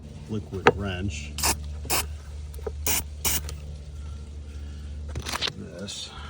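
Liquid Wrench penetrating oil hisses from a spray can in short bursts while working on a 2018 Jeep Grand Cherokee 3.6L EVAP line, about five quick sprays mixed with small mechanical clicks and handling noise.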